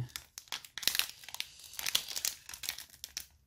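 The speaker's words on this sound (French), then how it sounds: "il faut bien que je l'ouvre quand même. Essayer de l'ouvrir par le bas peut-être. Voilà. Ouais, je préfère ouvrir les boosters en deux." Foil wrapper of a trading card booster pack being worked open from the bottom and pulled apart in two, giving a run of close crinkling and crackling bursts with brief tearing rips, no talking.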